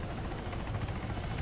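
A police helicopter in the video game Altis Life: its rotor chops steadily, a low rhythmic thudding at moderate distance under a constant engine hum.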